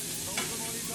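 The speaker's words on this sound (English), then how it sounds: "we'll add our onion first to our pan, and I've just left the pan with the" Onion hitting a hot pan slicked with leftover oil from cooking pork medallions, producing a steady sizzle with one brief louder crackle, heard up close.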